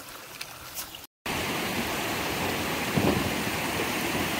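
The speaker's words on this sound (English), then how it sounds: "Another virgin creek." Steady, close rush of water flowing down a small virgin creek beside a new forestry road in the British Columbia Cariboo backcountry, continuous and full, with a brief gap near the start and no talking.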